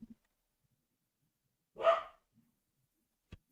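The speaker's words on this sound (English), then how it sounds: "Your dog's not happy with it either." A dog gives a single sharp bark at a moderate distance, surrounded by near silence and a few faint clicks.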